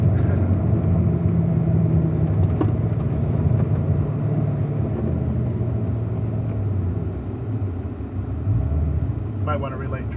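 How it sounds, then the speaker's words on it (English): Slow road traffic heard from inside a car: a steady low engine and road rumble runs throughout, with people talking over it and a few brief higher clicks near the end. "Worst, slowest kind of traffic."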